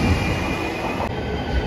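A JR Shikoku 7200 series local train on the Yosan Line runs through Marugame Station, sending out a loud, close rumble of wheels and rail noise, with no one talking.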